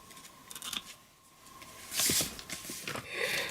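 Scissors snipping off the excess paper from a folded kimono card after a flat knot is tied, a few quiet close cuts and rustles in an otherwise soft, faint setting.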